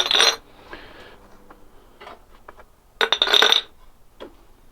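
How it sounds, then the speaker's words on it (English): Metal parts from a Gen 6 454 engine teardown are tossed into a glass honey jar, giving two bright clattering bursts of clinks with lighter single ticks between them, close and loud. "I can now just toss these into this glass jar, this honey jar."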